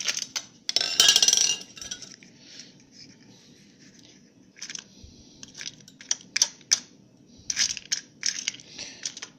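Wood pellets scooped and poured into a Great Canadian Hiking Wood Stove while winter camping: a loud rattling, crunching pour first, followed by several shorter clattering spills and taps, close by.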